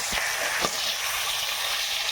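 Koi fish frying in hot oil in a pan just after fried lentil bori, a steady loud sizzle throughout with a couple of brief sharper crackles, no talking.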